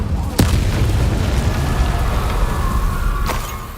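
In Hogwarts Legacy, an Incendio fire spell fires off as a sharp booming blast, followed by a rumbling wash and a second, softer burst near the end.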